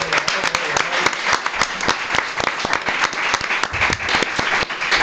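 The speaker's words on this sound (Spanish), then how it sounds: "Un aplauso." A studio audience on a Spanish game show applauds, dense sustained clapping from many hands that carries on evenly for several seconds.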